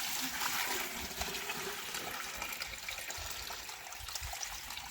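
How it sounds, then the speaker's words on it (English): Water trickles and splashes quietly into a swimming pool pump basket, a soft, uneven pour that lasts a few seconds. "pour some water in."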